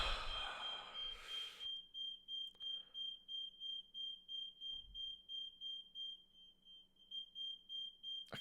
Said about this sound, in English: the fire alarm has went off.